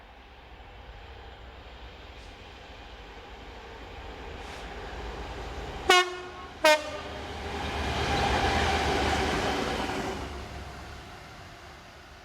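Two Class 66 freight locomotives heading south on the Gloucester to South Wales main line, with a loud double horn blast midway and a rising rumble of wagons rolling past nearby.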